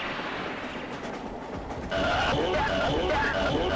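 Train rumble in Genshin Impact, a steady rolling rail clatter under a loud game mix that swells a bit louder partway through, with a voice talking over it.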